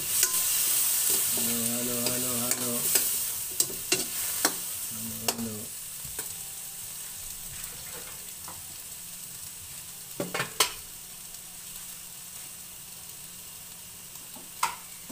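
Eggplant and squid simmering in coconut milk are stirred in a pan, giving a steady sizzle with scraping spoon strokes and brief clattering knocks, loud and close, with no talk.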